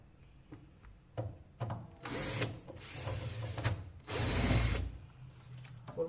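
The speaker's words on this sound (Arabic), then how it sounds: "نيجي بقى بالشكل ده بنخش بالدريل بتاعنا الجميل" An electric drill drives screws into a wooden three-door wardrobe: brief clicks and taps, then several whirring bursts of a second or so each, close and fairly loud, with no talk.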